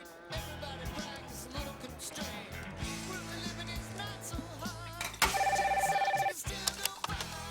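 A home telephone rings loud and close, one sustained electronic ring burst that comes in after a stretch of busy film soundtrack music and sound effects.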